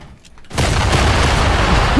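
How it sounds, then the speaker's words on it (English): A C4 explosion in Fortnite bursts in suddenly after a quiet start, then a loud, dense roar of blast and debris fills the rest of the moment with no talking over it. "I just contained the explosion too."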